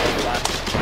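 Artillery fire in the video game Foxhole amid a large base assault, a dense, loud rumble of distant shots and blasts with a brief sharp report near the middle, and a voice talking underneath.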